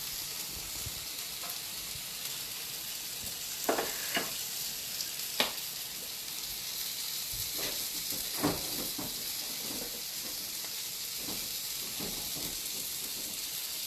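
Sausage and broccoli rabe sizzle steadily in a pan, a continuous close frying hiss broken by occasional soft pops and stirring scrapes.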